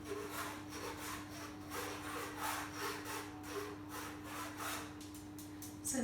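Flour and baking powder are sifted through a hand sifter for a sponge cake, making a steady rhythmic scratchy rasping that pulses evenly and continuously at close range, with a low hum in the background.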